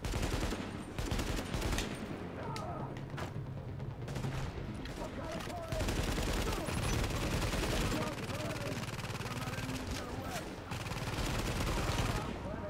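Sustained gunfire in The Division video game, with rapid bursts and volleys of shots at a fairly low, distant level, continuing throughout alongside other game sound.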